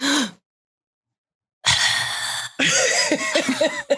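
A voice imitates sleep apnea gasping: after a short breathy sound and a pause, strained, choked gasps and snorts come in two long, loud bursts.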